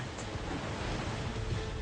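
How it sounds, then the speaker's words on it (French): A broad, rushing roar of a rogue ocean wave surging, loud and continuous like a heavy wave breaking, with wind noise mixed in. "Une vague scélérate."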